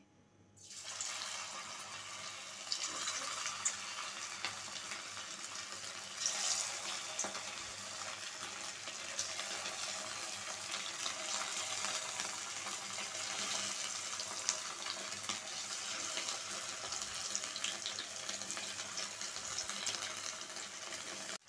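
Chicken pieces for chili chicken fry in hot oil in a karahi, a loud, unbroken close hiss and sizzle lasting throughout with small bursts of crackling.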